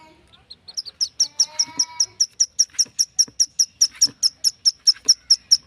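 A bird calls a rapid, steady series of sharp, high kee notes, about four per second, loud and close with almost nothing else around.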